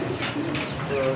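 Pigeons in a home loft, including fancy breeds like red checker, lahori, German seal and satin, give soft, close, repeated coos with a faint voice murmuring in the background.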